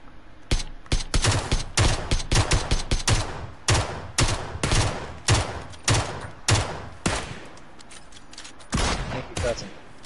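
Enemy gunfire in the battle royale game PUBG rattles in rapid, evenly spaced bursts of shots, one after another for about ten seconds, sounding fairly close and loud with no talking over it.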